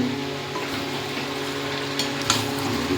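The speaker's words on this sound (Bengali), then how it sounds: "আলুটা দিয়ে ভালো করে একটু নেড়ে" Potatoes are stirred into a sizzling mutton masala, giving a steady close frying hiss with soft scraping of a spoon through the pan and a brief clack near the end, no voices.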